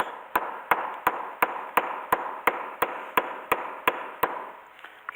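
A ball-peen hammer's rounded end strikes repeatedly to cut a hole by hand during work on a Mercedes W115, giving about a dozen sharp, evenly spaced metallic taps at a steady rhythm, close and clear.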